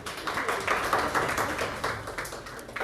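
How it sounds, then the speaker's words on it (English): Audience applause at a freestyle chess tournament: a room of people clapping steadily for a few seconds, moderately distant and fairly soft, with no talk over it. "Please give her a round of applause."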